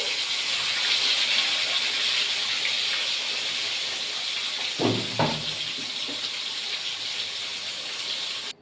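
Pointed gourd fries in hot oil with a loud, steady, close hissing sizzle, broken midway by a couple of soft thumps of pieces or a utensil, then the sizzle continues on its own.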